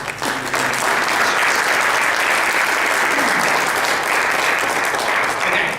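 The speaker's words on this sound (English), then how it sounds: "Why don't we give a round of applause for the lightning round?" A community college audience gives a steady, loud round of applause, dense and continuous from start to finish with no talk over it.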